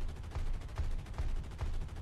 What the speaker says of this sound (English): when I fire a longer burst, they fly all over the place